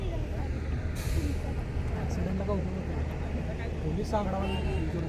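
A truck's air brakes hiss sharply on a mountain ghat road under a steady engine rumble, with other traffic nearby and people talking throughout.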